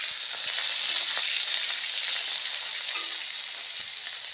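Potatoes sizzle in a pan of hot oil as the first ingredient of a mixed vegetable dish, giving a steady, crackling fry throughout with occasional light stirring and no voices.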